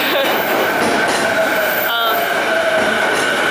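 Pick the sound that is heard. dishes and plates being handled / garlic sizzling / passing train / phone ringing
passing train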